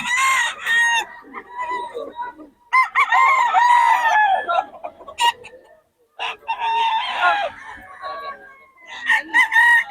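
Roosters at Bocaue crow loudly and repeatedly at close range, with long overlapping cock-a-doodle-doo calls broken by short gaps and a few clucks.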